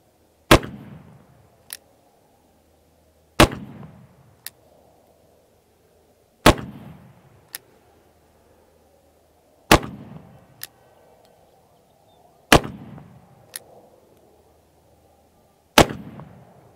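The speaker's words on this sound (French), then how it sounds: "c'est la première fois que je tire avec ce revolver" Black powder revolver fired at a 10-metre target, six loud, sharp shots spaced roughly three seconds apart, each with a short booming tail and a faint distant echo, the intervals otherwise quiet.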